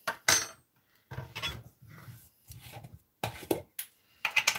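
A small metal teaspoon is picked up and handled in a kitchen while honey is prepared, giving several close, light clinks and scrapes in short bursts with quiet gaps between them.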